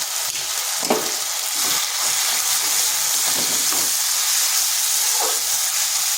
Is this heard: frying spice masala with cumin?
yes